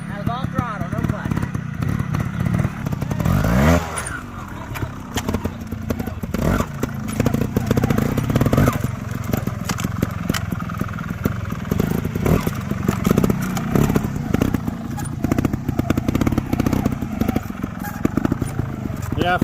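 A motorcycle ridden in a rough, muddy riding area using throttle only without the clutch, its engine revving unevenly with bursts and clatter, nearby and loud, while people talk over it throughout.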